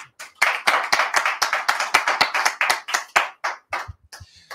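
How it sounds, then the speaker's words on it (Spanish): An audience at a lecture on economics claps for the speaker, a loud, rapid burst of clapping that thins out toward the end. "Un aplauso para ti de parte nuestra"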